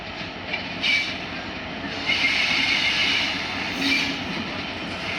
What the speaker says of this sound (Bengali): দেখতে অনেক ভালো লাগে যখন ট্রেন ঢোকে